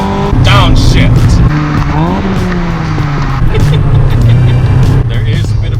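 A 1999 NB Mazda Miata engine is loud and close as it downshifts, with a brief rev blip rising over steady road and tire noise.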